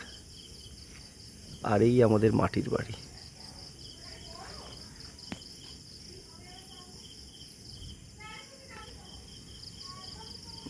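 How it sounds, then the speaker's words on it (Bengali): Crickets chirp steadily through a night near a village hut and market, a faint continuous trill running under the scene while a person speaks briefly near the start. "এখন ঝিঝি পোকার ডাক"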